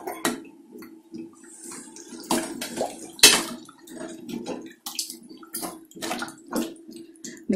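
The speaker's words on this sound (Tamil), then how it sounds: "தேவைக்கு கொஞ்சம் தண்ணி ஊற்றிக்கலாம்" Water poured into a cooking pot for dry fish curry splashes and trickles in uneven bursts, with sharp sloshes and drips over a low steady hum, close by and moderately loud.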